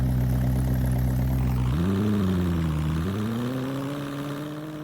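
A car engine in the video game Polish Car Driving hums at a steady idle, then its pitch steps up twice as it revs a little higher and holds, with no talking.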